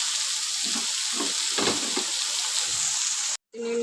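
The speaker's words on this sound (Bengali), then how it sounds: "কুচিয়ে রাখা পেঁয়াজ কুচি যে ক্যাপসিকাম টমেটো সব আমি এক এক করে দিয়ে দেবো" Chopped onion, capsicum and tomato fry in a pan for egg pasta, a dense steady sizzle with brief spoon scrapes and clacks, close and unbroken until a short cut near the end.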